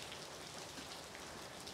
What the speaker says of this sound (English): rain's getting heavier